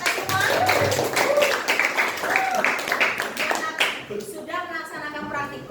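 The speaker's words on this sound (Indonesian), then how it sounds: "Kita tepuk tangan untuk kita semua." Students in a classroom clap their hands together after finishing a hydrostatic pressure lab, a dense burst of close applause with a teacher's voice speaking over it and the clapping thinning toward the end.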